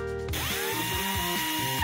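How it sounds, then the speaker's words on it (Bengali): Power drill driving screws into a bunk bed under construction, a close, loud whining motor with rising and falling pitch as the screw bites and the trigger is pulsed, heard alone. "এখানে স্ক্রু লাগাই।"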